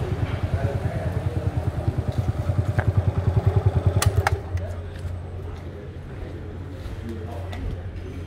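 A 1978 Honda Cub motorcycle engine idles close by with a fast, steady putter for about four seconds, then drops to a lower, smoother rumble.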